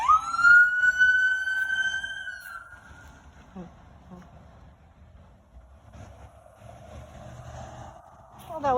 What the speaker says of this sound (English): Sorry about the siren, guys. Guess it's just bad timing.